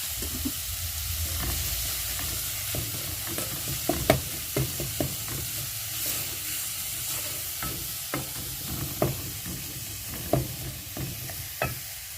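Tomatoes salted and frying in a pan give a continuous close sizzle, broken by repeated sharp spoon taps and scrapes against the pan.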